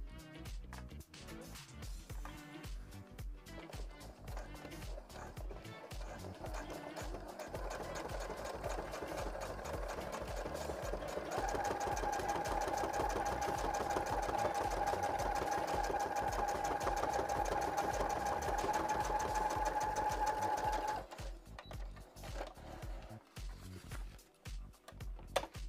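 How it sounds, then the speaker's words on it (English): Sewing machine stitching a seam on handmade photography gear, a steady rapid mechanical whirring that builds and holds for about ten seconds, framed by quieter shop noise before and after. "And then we sew down that line again."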